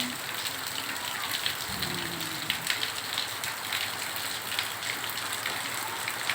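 Steady rain falls on an afternoon, a constant hiss of drops with scattered closer patters and a brief low rumble, no talking.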